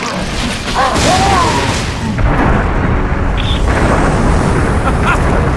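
A grenade explodes in the PlayStation Vita shooter Unit 13, a loud, sustained roar of blast and battle noise that fills the whole stretch without letting up.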